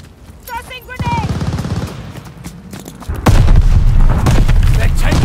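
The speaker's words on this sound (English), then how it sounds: "Tossing grenade!" A grenade explodes in a Call of Duty Vanguard Capture the Flag match: a loud, heavy boom midway lingers over rapid gunfire, after a short shouted voice early on.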